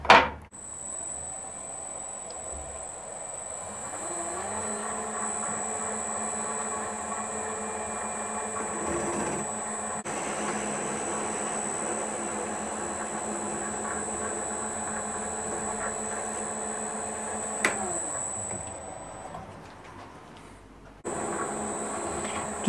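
A metal lathe faces the end of a drill part to length, giving a quiet, steady cutting hum with a faint high tone for about twenty seconds before it winds down and stops, with no speech.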